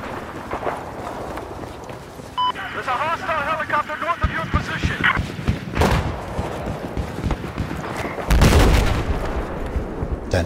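Sniper rifle shots ring out in Battlefield 4 gameplay amid constant battle noise, with a sharp loud blast around six seconds and a heavier burst near eight and a half seconds, while someone talks over the action.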